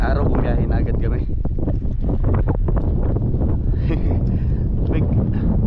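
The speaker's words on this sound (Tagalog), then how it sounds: "Medyo malamig, medyo may kalakasan ng simoy ng hangin." Strong wind blows at the sea shore, buffeting the microphone with loud, continuous rumbling gusts, while a person talks over it throughout.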